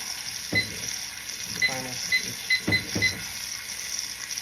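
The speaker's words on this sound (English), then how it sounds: "Timer." A kitchen timer alarm goes off in a home kitchen while filet mignon sears, giving a few short, bright beeping bursts over a steady sizzle and faint clatter.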